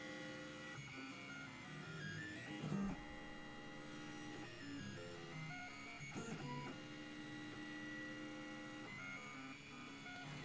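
Trinus 3D printer running a spinner test print, its stepper motors whirring and whining in changing tones over a low hum, quiet and close, with no voices.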